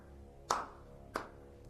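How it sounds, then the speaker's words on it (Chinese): A single person claps slowly twice in a quiet room, two distinct close claps about half a second apart, followed by a faint third tap. "我今天已经是为你第2次鼓掌了。"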